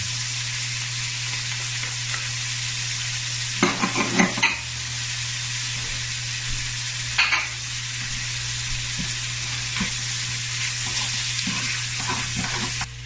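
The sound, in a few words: carrots and onion sautéing in a pot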